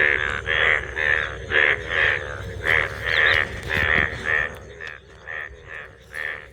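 Loud, close frogs croaking in a steady pulsing rhythm, repeated calls overlapping throughout with no talking.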